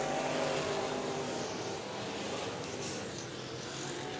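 Stock cars in a factory stock feature race roar around Tulsa Speedway, a dense, continuous engine drone with a gentle swell and fade as the pack passes.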